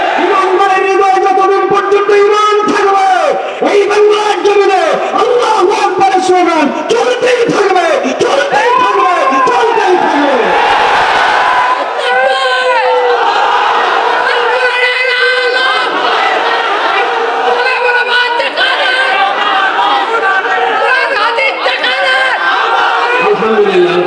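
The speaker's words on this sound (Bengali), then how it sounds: "আল্লাহু আকবারের তাকবীর" A large crowd at an Islamic religious gathering chants the Allahu Akbar takbir slogan in loud, rhythmic, repeated call-and-response bursts, voices swelling together and close.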